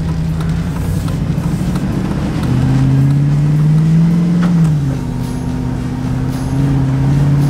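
A car engine running at high RPM while driving after a spark plug gap adjustment hums loud and steady from inside the cabin. Its pitch climbs, then drops as the car eases off, holding a constant drone throughout.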